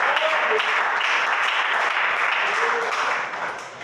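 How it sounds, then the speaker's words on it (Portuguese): A church congregation claps together in a dense, steady wash of hand claps that holds evenly and then thins slightly near the end. "A igreja bate as palmas para Jesus."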